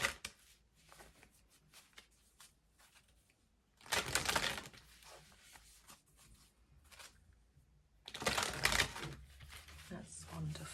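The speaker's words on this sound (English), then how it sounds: "And our final shuffle." A deck of oracle cards is shuffled by hand, two bursts of rapid riffling flutter separated by quieter handling, with faint soft talking underneath.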